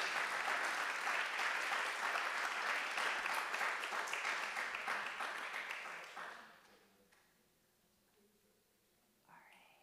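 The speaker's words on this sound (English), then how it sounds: "Everybody clap, he's amazing." An audience applauds a speaker being invited to the stage at an arts talk, with loud sustained clapping for about six seconds that fades to a quiet room, then a brief voice near the end.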